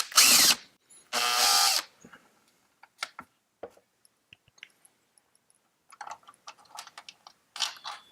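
A power driver whirs loose the screws of a wire bracket on a Gene Cafe coffee roaster in two short close bursts, followed by scattered small clicks and taps of parts being handled.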